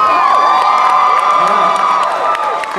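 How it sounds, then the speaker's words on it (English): A crowd at an anime convention martial arts demonstration cheers and applauds loudly, with whoops and excited shouting over a steady bed of clapping, sustained and close throughout. "Let's give him a warm applause."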